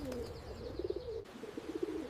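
Pigeons being fed bread, cooing in soft repeated bursts, close and fairly quiet over low outdoor background noise.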